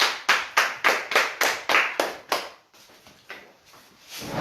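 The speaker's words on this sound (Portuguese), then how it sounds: "E as palmas louvam ao Senhor" Rhythmic hand clapping from a church worship congregation, about ten sharp claps at a steady beat that then fade into a softer, scattered murmur of hands.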